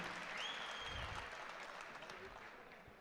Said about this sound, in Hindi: जरा इनके लिए तालियां बजा दीजिए